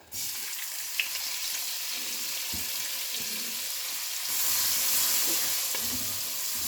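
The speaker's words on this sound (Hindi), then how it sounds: "अब प्याज को हम तेल में डाल देंगे।" Finely chopped onions frying in hot oil give a loud, continuous sizzle that swells further midway, with a few faint clicks and no talking.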